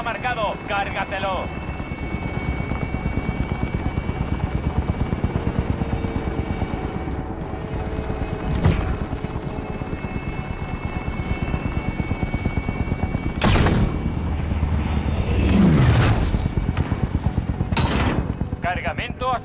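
Helicopter from the video game Call of Duty: Modern Warfare leaving the area, a continuous loud rotor drone punctured by scattered gunfire bursts and blasts, with voices talking over the din throughout.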